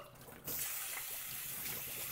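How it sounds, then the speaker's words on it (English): Cooked noodles drain and get rinsed in a sieve. After a brief quieter start, water suddenly rushes and then pours steadily and fairly loudly. "I am going to grab my sieve and drain them and rinse them just so they don't stick together"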